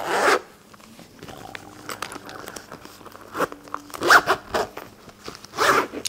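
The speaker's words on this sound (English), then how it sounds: "Has a pretty nice zipper" The zipper on an affordable pair of women's boots is pulled in several short, close bursts, with quieter rustling and handling of the boot between the zips.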